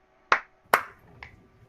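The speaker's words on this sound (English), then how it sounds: "this is just for a marker, so I'm just gonna do a quick clap" A quick hand clap used as a recording marker: a sharp, close transient, followed by two more short snap-like hits at a lower level, in a quiet room.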